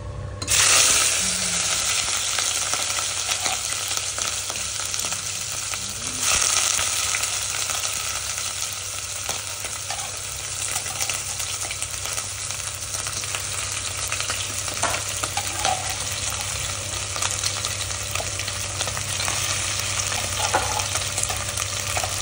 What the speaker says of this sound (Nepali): एकदम अब चाहिँ म फ्राई गर्छु है त